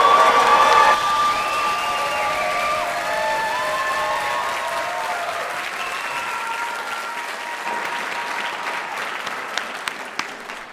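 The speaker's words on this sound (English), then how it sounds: "Let's all give our graduates one more big round of applause" A big round of applause for graduates at a school graduation ceremony, dense crowd clapping with cheers, whoops and children's shouts, loudest at first and slowly thinning toward the end.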